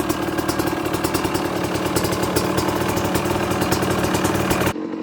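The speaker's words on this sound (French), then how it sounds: "le premier coup de kick, elle a démarré quoi" A WR 250 motorcycle engine running steadily after a kick start, with a loud, close, rhythmic mid-pitched idle and mechanical clatter that cuts off abruptly near the end.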